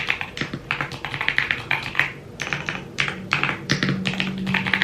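Fingers type on a keyboard at a writing desk, quick uneven bursts of crisp close clicks and taps with short pauses between runs, no voices present.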